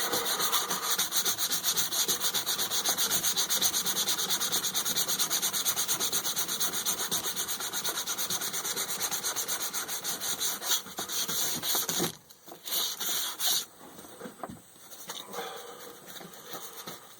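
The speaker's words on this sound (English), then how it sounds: "I'm not trying to get a uniform sand on it or anything" Sandpaper rubbed steadily back and forth over a leather baldric to distress it, a close, continuous scratchy rasp that breaks off briefly near the end before resuming in shorter, uneven strokes.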